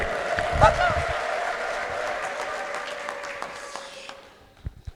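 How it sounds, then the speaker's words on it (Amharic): A church congregation at a Protestant service breaks into applause, a dense clapping that swells at first and then fades away over a few seconds, with a voice briefly audible near the start. "ይሄን የገባው ሰው ለዚህ ጌታ ጭብጨባና እልልታ ያምጣልኝ"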